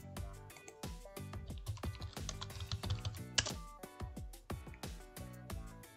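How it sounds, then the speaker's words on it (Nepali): Keys tap rapidly on a computer keyboard, a quiet, close run of irregular clicks with brief pauses between bursts, and no voices. "मेरो सेयर टाइप गर्नुहोला।"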